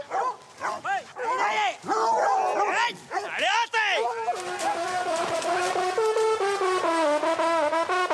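A pack of 29 hunting hounds gathered for a mounted hunt bay and yelp in overlapping, rising howls, close and lively, growing into a continuous chorus of barking.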